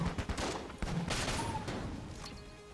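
Rapid gunfire from the Enter the Gungeon video game rattles in dense bursts, loud and continuous, with sharp shots at the start and a sustained barrage after, no talking.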